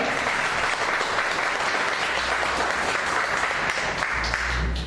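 Loud, sustained applause from a church congregation during a sermon, a thick continuous roar of many hands clapping without pause.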